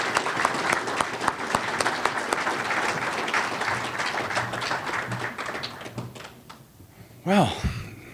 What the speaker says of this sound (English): So another round of applause for Danny Lindstrom.